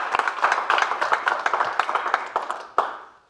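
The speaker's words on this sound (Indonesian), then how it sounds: "Tepuk tangan teman-teman." A comedy roast audience claps, a burst of many quick overlapping hand claps that carries on for a few seconds and then trails off, fairly close.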